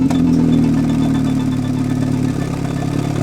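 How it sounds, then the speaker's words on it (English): A Vauxhall Astra VXR (Mk5, H-generation) exhaust idles with a steady, deep, even drone, close and fairly loud. The tone dips slightly near the end. "That's the exhaust."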